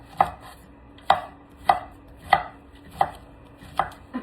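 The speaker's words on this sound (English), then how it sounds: "Then I found me a little baby squash, so I'm gonna give it a little cut." A knife chops through a baby squash on a cutting board, six sharp even thuds about a beat apart, close and clear with no talking.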